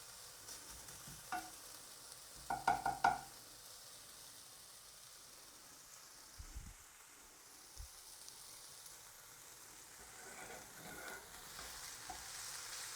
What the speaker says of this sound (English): all I'm doing is waiting until the bacon cooks